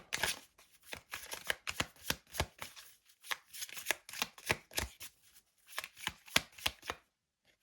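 Lenormand cards shuffled by hand in a steady run of crisp, close riffling bursts with short pauses between them, no talking.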